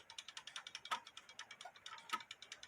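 A German-made quarter-hour cuckoo clock's movement ticking and chirping with something stuck near a wheel, a quick, even run of faint mechanical ratchet-like clicks, close up and without talk.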